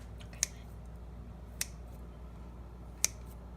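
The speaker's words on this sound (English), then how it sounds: "take a pair of scissors, and you're going to cut an X in the top of your bun" Scissors snip an X into the top of a focaccia bun, giving three crisp, isolated clicks spaced over a few seconds against a quiet kitchen background.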